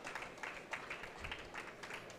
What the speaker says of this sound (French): On peut t'applaudir, Hassan.